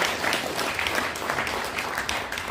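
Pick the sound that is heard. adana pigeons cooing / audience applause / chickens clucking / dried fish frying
audience applause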